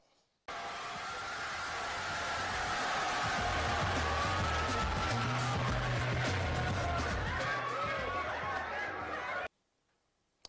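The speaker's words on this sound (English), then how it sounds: "People were cheering, lots of clapping going on, lots of good sounds." Rally crowd cheering and clapping as one continuous dense roar of voices and applause, loud and sustained for about nine seconds before cutting off abruptly.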